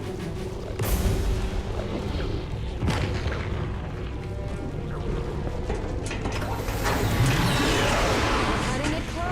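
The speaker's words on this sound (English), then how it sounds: "the resulting explosion of the Autumn would rip the ring apart" In Halo: Combat Evolved 20th Anniversary, the ship Autumn blows up in several deep booms with mechanical rumbling and crashing debris. The blasts keep rolling loudly for the whole stretch as a big, heavy spectacle.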